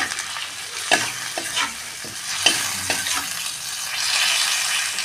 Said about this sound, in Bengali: দিয়ে দিচ্ছি নুন, হলুদ। টমেটোটা আমি ভালো করে কষিয়ে নেব।